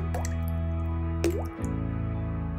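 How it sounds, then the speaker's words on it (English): Water drops fall into liquid, with two distinct plinks rising in pitch, heard close against a steady low hum. "a water drop is quiet but with a low frequency"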